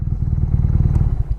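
A BMW R NineT Racer motorcycle engine idles close by with a steady, deep, throbbing pulse, running evenly for a moment before being switched off.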